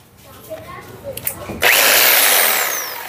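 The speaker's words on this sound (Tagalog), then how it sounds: "hammer drill from Black & Decker" A Black & Decker corded hammer drill with a quarter-inch concrete bit kicks on suddenly and drills steadily and loudly after a short quiet stretch of handling noises during an electrical pull box installation.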